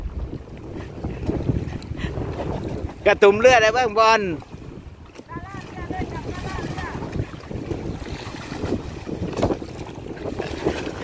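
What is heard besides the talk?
strong wind and waves on a lake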